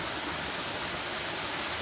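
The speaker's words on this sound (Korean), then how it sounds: "독특한 형태의 절구 폭포입니다. 주황산 제2폭포라고 불리어지는데요." Steady, dense rush of falling water at the mortar-shaped second waterfall in Juwangsan National Park, a continuous broadband roar without pauses or voices.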